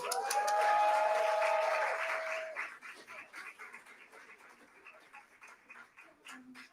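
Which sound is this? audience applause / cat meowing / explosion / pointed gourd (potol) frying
audience applause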